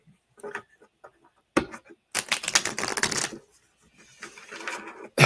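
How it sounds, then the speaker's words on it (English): Tarot cards are shuffled close by: scattered sharp clicks and taps, then a dense papery riffle lasting about a second, followed by softer flicks and a final snap. "Let me shuffle real good."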